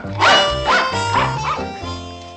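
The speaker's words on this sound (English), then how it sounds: "you're going to have to leave the dogs outside" Several dogs bark in a loud, excited burst of four or five overlapping woofs and yips at close range, set in a classic country comedy scene at a hotel lobby.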